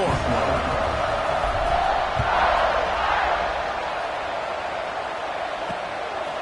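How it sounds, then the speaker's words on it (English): A football stadium crowd buzzes after a touchdown run, giving a steady, loud wall of distant roar and chatter that swells briefly in the middle. "this crowd is buzzing after that last score"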